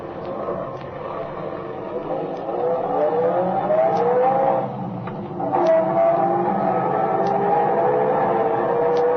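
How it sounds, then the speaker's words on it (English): An old car's engine runs with a steady drone, its pitch rising and falling as it revs under a mix of background noise, moderately loud throughout. "This car don't run so bad."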